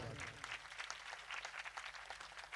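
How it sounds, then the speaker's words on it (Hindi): Applause rises to welcome a disciple at a Shani temple consecration ceremony: a dense, steady patter of many hands clapping, fairly faint and continuous for a couple of seconds. "लेकिन सबसे लाडला बेटा, तालियों से स्वागत"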